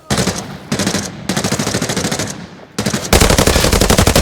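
Bursts of rapid automatic gunfire in the video game Arena Breakout Infinite rattle loudly in several volleys separated by brief pauses, with the final burst the loudest and longest.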